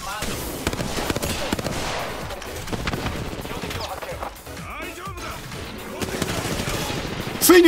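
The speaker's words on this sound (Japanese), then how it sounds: "ついに撃ってる！" Rapid automatic gunfire from a Apex Legends firefight, dense bursts of shots running nearly the whole time at close range, with in-game effects layered over it.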